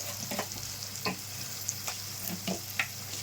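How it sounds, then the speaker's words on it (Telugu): Onions frying over high flame in a pan for a vegetable curry with turmeric and salt, a soft steady sizzle with occasional scraping stirs and light clinks from a spoon, quiet and close with no talking. "హై ఫ్లేమ్లో పెట్టి కొంచెం బాగా వేగాలండి"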